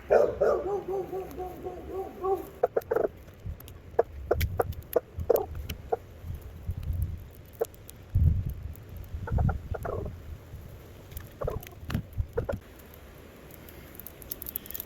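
A dog barks in scattered bursts amid gusty wind noise and bumps, the barks coming irregularly and fairly close.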